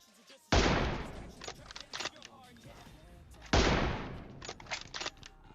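Two loud gunshots about three seconds apart in the mobile battle royale game PUBG Mobile, each followed by sharper shots and clatter as the echo fades, with no talk.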